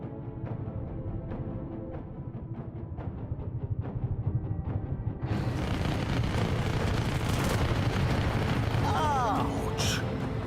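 Anti-aircraft guns firing in a video game, with rapid repeated thuds over a deep rumble that grows into a louder, denser barrage partway through.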